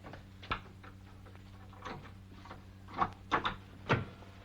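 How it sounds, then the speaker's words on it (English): Old jail doors are opened with a handful of wooden knocks and clunks, building to a cluster of louder bangs near the end over a low steady hum. "Open the doors, Mr. Clegg."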